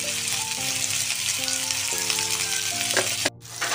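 Cumin seeds crackle and sizzle in hot oil in a steady close hiss, with some tonal ringing and a brief stirring clatter near the end.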